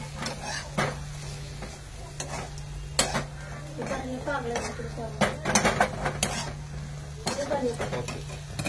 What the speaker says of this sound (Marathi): टाकतो थोडं परतून घेऊ द्या मला